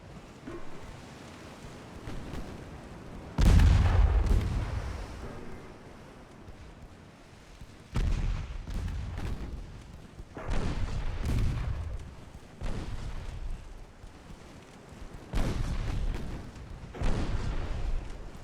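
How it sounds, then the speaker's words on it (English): 7-inch naval guns firing in Ultimate Admiral Dreadnoughts during a 1903 French campaign battle against Britain and Russia: several heavy booming salvos, each with a long rumbling decay, over a steady wash of sea and wind. "Hopefully those 7-inch guns can hit them back."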